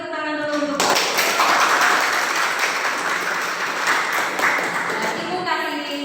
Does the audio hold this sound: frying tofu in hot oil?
no